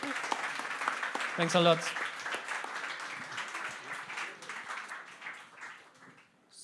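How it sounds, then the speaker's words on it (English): An audience at an Astronomy on Tap talk in Bonn claps, a moderate wash of applause that thins out toward the end, with a few spoken words over it. "So let's clap one more time."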